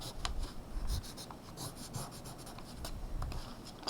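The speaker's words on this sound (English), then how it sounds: "So I'm going to draw a rectangle." A pencil or crayon draws a rectangle on paper, with short scratchy strokes rubbing in quick bursts, close and quiet, with no talking.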